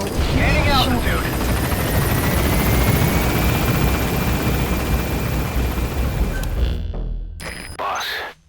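In Metal Gear Solid 5, a helicopter gains altitude with a loud, sustained rotor drone and whine that fills the scene and cuts off abruptly near the end, while a voice speaks over it.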